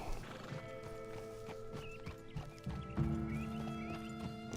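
A horse in a video game moves at pace with clip-clopping hooves and a whinny, its rhythmic hoofbeats sitting over a layered game soundtrack and ambient tones, moderately loud.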